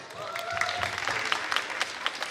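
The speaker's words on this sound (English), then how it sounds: "Let's give a round of applause for him." Brief, fairly faint round of applause from a spelling bee audience, with scattered distinct claps and a few voices murmuring underneath.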